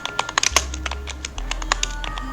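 Quick, close typing on a computer keyboard by a fast touch typist, heard as a rapid, uneven run of crisp key taps over a low steady hum, with no talking.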